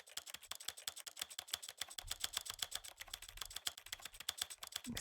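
Rapid keyboard typing in the video game The Stanley Parable: Ultra Deluxe, a dense, even stream of crisp close keystrokes with a faint low hum joining partway through and no voices.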